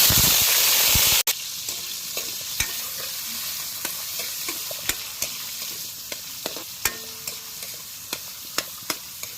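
Native chicken frying in oil, with a steady dense sizzle and a run of sharp scraping clinks from stirring at irregular intervals, loud and close with no talking.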